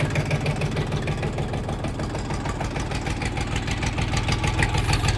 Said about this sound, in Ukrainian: Ну, не курить, гарно працює двигун, рівні обороти.